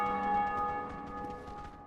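A church bell in Dark Souls Remastered hums as a lingering resonant ring, slowly decaying under faint rhythmic patter.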